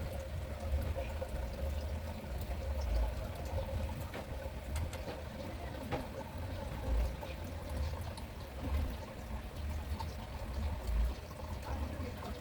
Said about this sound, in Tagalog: salin na natin yung nawasa